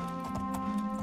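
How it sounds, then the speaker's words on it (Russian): Horse hooves clip-clop in the video game Oblivion, a few quick close hoofbeats over about a second against a steady droning musical background. "Лошадка."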